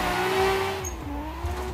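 Car engine in Assetto Corsa revving through a clutch-kick drift at Forest Park, with pitch sweeping up and down across a short burst, loud and close, with faint tire squeal.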